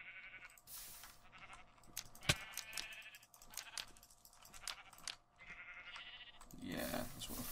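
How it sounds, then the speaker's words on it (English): Blocky Minecraft sheep bleat several times in a row, fairly loud and close, with game sounds and brief chatter around them. "Let's set a sheep on fire."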